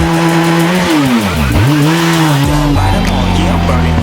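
A 400cc fuel-injected sport motorcycle engine revs hard nearby, its pitch sweeping up and down through several throttle blips before settling into a lower rumbling idle, loud and dominant throughout.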